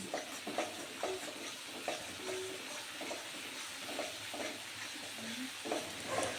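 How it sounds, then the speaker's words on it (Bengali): A thick masala of tomato and ginger fries in oil, with a low, steady hiss under repeated scraping strokes of a spoon. Occasional faint clinks cut through, and no one speaks. "মশলাটাকে ভালোভাবে এভাবে কষে নিতে হবে যতক্ষণ না মশলা দিয়ে তেল ছেড়ে দিচ্ছে"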